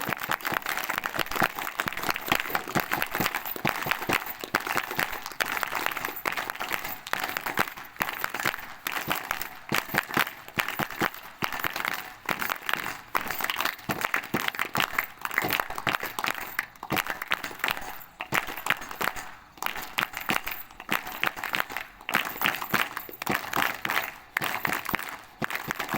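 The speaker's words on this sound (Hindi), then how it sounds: "जोरदार ताली वाजवा बाबाजींसाठी।" A large crowd claps loudly and steadily at a religious ashram gathering, the dense applause running unbroken throughout without audible speech.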